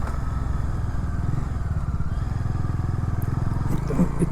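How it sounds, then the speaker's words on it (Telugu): A Bajaj Dominar motorcycle engine runs steadily and loudly close by, with a continuous throbbing rumble and low mechanical clatter, rising slightly near the end. "ఎందుకంటే దీని సౌండ్ కూడా కొంచెం లౌడ్ ఉంటుంది బైక్ది."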